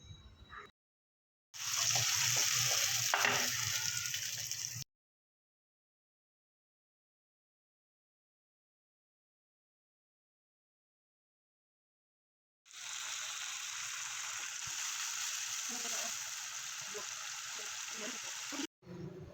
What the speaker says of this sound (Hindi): उसी ऑयल में जिसमें हम लोगों ने अरबी फ्राई की थी ऐड करेंगे प्याज। प्याज को जो है मैं फ्राई करूँगी इसमें लाइट ब्राउन होने तक।